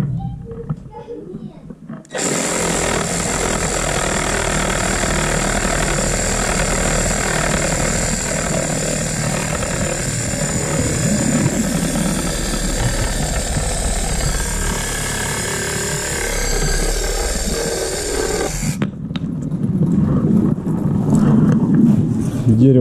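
A Dnipro-M cordless saw cuts through a block of wet wood, its loud, steady high motor whine starting abruptly, running for about sixteen seconds and cutting off sharply, with quieter handling sounds before and after.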